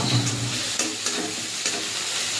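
Chili paste sizzles and fries in a pan with browned onions and tomatoes for a Bengali fish curry, a steady crackling hiss broken by occasional stirring scrapes, close and fairly loud.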